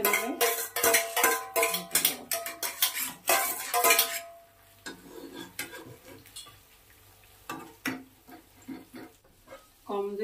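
Eggs frying in a pan with cabbage leaves on a low flame, a metal utensil scraping and clinking rapidly against the pan, then quieter scattered taps and sizzling with a few voice sounds in between.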